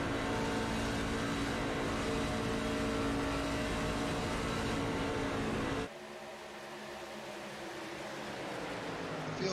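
Racing truck engines in an iRacing truck race at Talladega Superspeedway roar loudly and continuously; the dense engine drone drops abruptly partway through and then continues more thinly.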